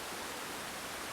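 Rushing water scenery in the video game Planet Coaster 2, a steady, even hiss like white noise that fills the whole clip, faint and unbroken with no voices over it.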